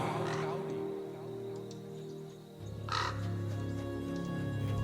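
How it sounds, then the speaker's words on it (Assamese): A crow caws several times, the calls sharp and fairly close, under a steady background hum and a voice speaking. "কাউৰী।"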